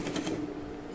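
A domestic sewing machine running a presser foot close along a seam while adjusting a trouser leg, giving a short, steady mechanical whir with rapid stitching ticks at close range, no voices.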